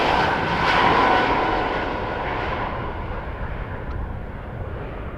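An Air Canada Rouge Boeing 737 lands at Montréal-Trudeau, a broad jet engine roar that swells near the start and then slowly fades, heard alone.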